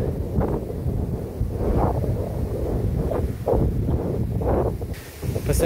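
Strong wind buffets the microphone beside an Australian lake, a loud, gusting roar that swells and eases repeatedly with no voices.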